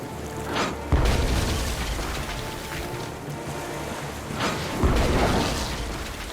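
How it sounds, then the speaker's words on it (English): Cannon fire at sea in the Tales of Monkey Island video game: two deep booms about four seconds apart, each followed by a rumbling tail over a bed of ocean and wave noise. "Then empty the cannons on him, me hearties!"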